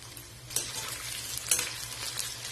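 Chicken pieces deep frying in oil give a quiet, steady crackling sizzle with a couple of sharper pops or utensil taps, heard alone without voices.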